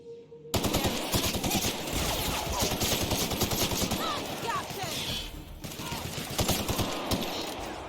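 Deadeye Assault Rifle 2 in the video game Outer Worlds fires long, rapid automatic bursts, loud and dense, with a brief pause midway before the shooting resumes; faint voices sit beneath the gunfire.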